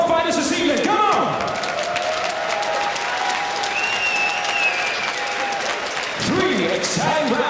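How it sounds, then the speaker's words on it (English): At a BAMMA mixed martial arts event, an arena crowd applauds and cheers for both fighters. The dense, loud clapping carries on under an announcer's amplified voice and swells again near the end. "round of applause for both fighters this evening"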